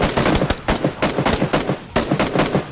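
Bursts of automatic gunfire in PlayerUnknown's Battlegrounds, loud and close, coming in rapid volleys separated by short pauses across the whole stretch.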